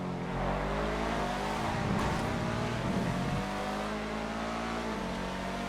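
A racing car engine roars and revs steadily through a drag race to the line in GTA FiveM, a continuous loud engine drone with no voices.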